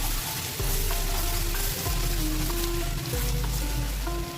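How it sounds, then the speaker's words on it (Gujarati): Garlic chutney roasting in hot oil in a pan while cooking guvar (cluster bean) curry, a steady close sizzle and fry crackle running throughout with a few faint clinks. "કાચું લસણ ના લાગે તેના માટે આપણે આ રીતે થોડી વાર માટે શેકી લઈશું"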